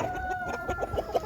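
Chickens cluck and murmur steadily inside a movable chicken tractor on a farm, a close, busy flock sound with a few louder squawks and no talk.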